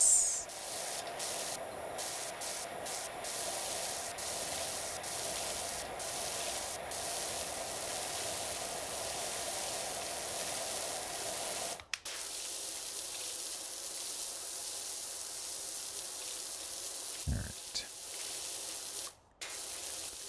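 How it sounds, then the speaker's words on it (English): Steady broadband hiss of a pressure washer jetting water in the cleaning game PowerWash Simulator 2, at an Art Deco house, running continuously for about twenty seconds with brief cutoffs near the end and no talk over it. "the washing sounds are nice."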